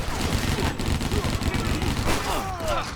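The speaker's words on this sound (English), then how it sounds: "Not only do the 4 guns sound kinda weak" Gunfire from a Max Payne-style shooter pops in rapid, thin-sounding bursts, fairly light and without much punch, partly under a voice speaking.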